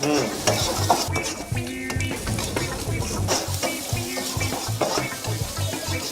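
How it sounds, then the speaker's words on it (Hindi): Onion, garlic, ginger and chopped chilli sizzle in a hot pan while a utensil stirs them in rhythmic scraping strokes, close and continuous throughout. "अच्छा, थोड़ा देर फ्राई करेंगे।"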